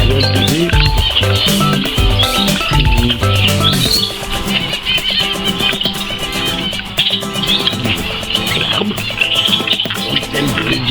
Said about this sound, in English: Like them birds as well, don't they all that?